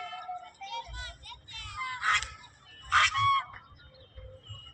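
Geese or ducks honk in a Punjab village, several loud nasal calls in bursts close by, with low rumbling background and a few softer calls between.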